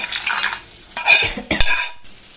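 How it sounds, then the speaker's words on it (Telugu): Dried red chillies and mustard seeds roasting in a pan for mango pickle, heard as a close, dry sizzle with scraping stirs and sharp clinks of a utensil against the metal. "మిరపకాయలు ఆవాలు వేయించాలి."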